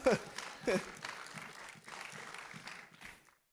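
Church congregation applauding during a Spanish-language sermon, a fairly brief, moderate burst of clapping that swells twice then fades out, with voices mixed in.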